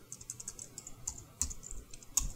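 Quiet, rapid typing on a computer keyboard while entering a short line of text, with soft irregular key clicks and a couple of slightly sharper taps, close by with no speech.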